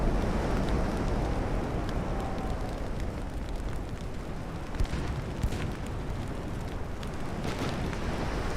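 Heavy torpedo strike exploding against a warship in the naval strategy game Ultimate Admiral: Dreadnoughts, a loud sustained roaring blast with rumbling low end and crackling debris that fills the whole stretch without pause.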